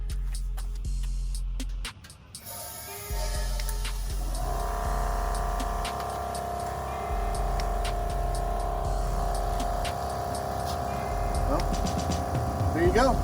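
A Vevor air jack inflates beneath a 2013 Ford Raptor, a steady close-up droning hum with a faint tonal whine that starts after a brief lull near two seconds and continues without a break.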